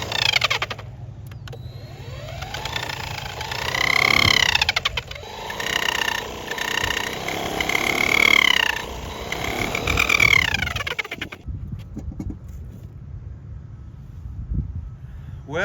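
A wagon driven by a DeWalt grinder does a burnout: a high, whining motor surges and falls in repeated revs, steady and close, with no voices.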